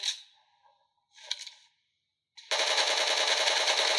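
Gunfire in the mobile battle game PUBG Mobile: two short separate bursts, then a sustained loud rapid stream of automatic fire, close and dry with no voices.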